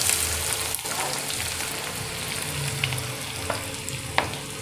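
Chopped onions fry in a hot pan with cumin seeds and whole dried red chillies for Uttarakhand-style kafuli, giving a steady close sizzle with a few soft stirring knocks.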